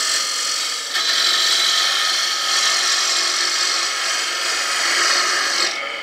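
A bowl gouge cuts into wood spinning on a lathe, a continuous loud rasping scrape that holds steady for several seconds before stopping abruptly at the end.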